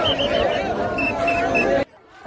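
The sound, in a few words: pilgrims (warkaris) cheering on seeing Vitthal idol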